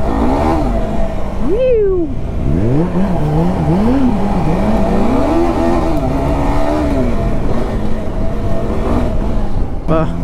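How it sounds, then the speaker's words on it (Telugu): A motorcycle engine revs up and down repeatedly at close range, its pitch rising and falling, loud and continuous throughout. "బిటోనా నడుపుతున్నాడు బైక్, ఇప్పుడు బిటోనా ఆడుకుంటాను అనమాట."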